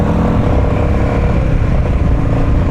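A Royal Enfield 500 motorcycle pulls away, its engine a loud, steady rumble that stays close and continuous throughout with no voices over it.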